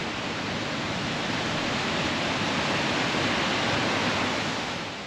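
Steady, loud roar of heavy water rushing and pouring over a dam spillway, continuous broadband noise close by with no break for the full length.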